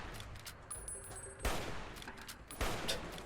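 Enemy gunfire in Fallout: New Vegas cracks out in sharp bursts, several loud shots and rattling volleys spaced over a few seconds amid game ambience.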